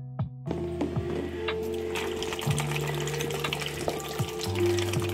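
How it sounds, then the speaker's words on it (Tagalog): Cold water pours into a two-liter container with fruit, a steady close trickling and splashing stream with a faint mechanical hum underneath, continuing without a break. "Tapos, lalagyan natin ng tubig."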